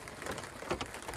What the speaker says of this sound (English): What else to do on a rainy day?